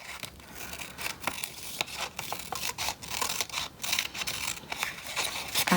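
Scissors snip through paper while shaping a ladybug corner bookmark, a close, quiet run of crisp cuts in irregular quick succession.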